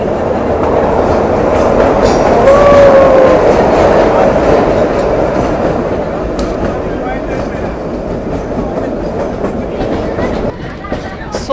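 Kalka–Shimla narrow-gauge toy train rolling through tunnel number 37, a steady loud rumble of wheels and carriages with brief squeals early on, filling the whole stretch without talk.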